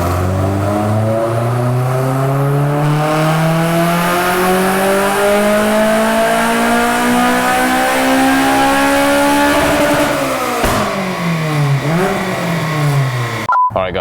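A Honda Civic Type R EP3 engine revs through a dyno power run, its pitch climbing steadily for about ten seconds at full load, then dropping off and blipping before cutting out.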